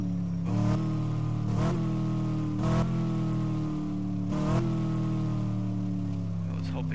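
A truck engine in Dealer Simulator drones loudly with a low hum and revs up in four repeated bursts, each rising and then easing back down.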